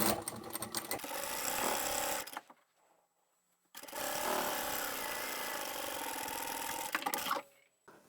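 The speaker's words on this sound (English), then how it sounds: "Flip that one over and we'll sew that as well." A sewing machine runs in two sustained bursts, stitching fabric panels of a simple beginner tote bag with an internal pocket, with a short quiet pause between runs; close and steady, with no talking.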